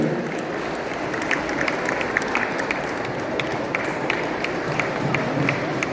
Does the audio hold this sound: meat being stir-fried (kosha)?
no